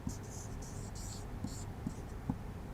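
Pen writing Urdu script by hand on paper: soft, close scratchy strokes in short bursts with small taps between them, faint and steady under a quiet background.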